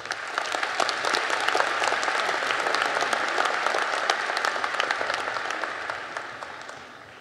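A university commencement audience at UT Arlington's College of Business applauds to welcome a speaker, producing steady, sustained clapping from a large crowd that fades toward the end.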